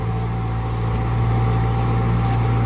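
A Kubota M-6240 tractor ploughing a field drones loudly and steadily at close range with no pauses or changes in pitch.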